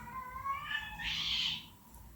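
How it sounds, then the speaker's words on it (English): A cat lets out a strained, drawn-out yowl, the kind heard when cats square off to fight, fairly faint over a low background rumble. "I told that cat not to fight with Smallweed."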